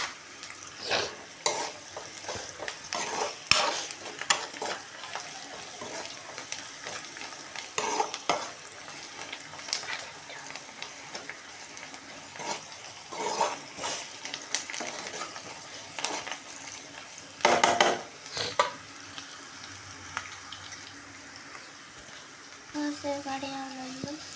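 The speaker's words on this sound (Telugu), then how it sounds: "ఉల్లిపాయలు అయితే చక్కగా ఏగిపోతున్నాయి" Onions frying in a pan for a village-style mutton curry, a continuous sizzle punctuated by frequent clattering scrapes and stirs of a utensil against the pan, with a voice talking intermittently.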